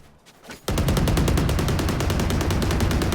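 A Vandal rifle in the Valorant video game fires a sustained spray of rapid, evenly spaced shots. The burst starts abruptly after a brief quiet moment and stays loud and close until the end.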